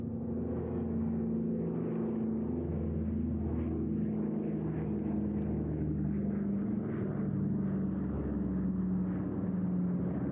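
A Spitfire propeller aircraft flies at the Eastbourne airshow, its engine a sustained droning hum with a low pulsing tone throughout, loud and unbroken.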